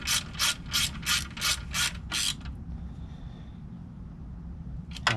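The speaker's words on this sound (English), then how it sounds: "you don't want to really wrench it down" A ratchet wrench tightens the bolts of a new pull start cover on an off-road vehicle, giving about seven loud, evenly spaced ratcheting strokes up close, then near-silence and one last click.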